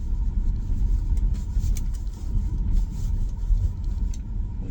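A Tesla driving on a snowy road during a snowstorm, with a steady low rumble of road and tire noise from inside the car, constant and fairly loud, with no talking.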